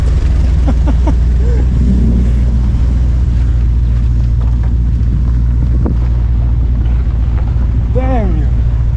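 A 1963 Chevrolet original 4.3-liter inline six grinds along a 4x4 trail, a loud, constant low rumble with wind buffeting, while people talk and exclaim over it.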